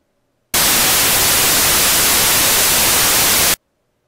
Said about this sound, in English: I end up with all of the noise in the human audio hearing range.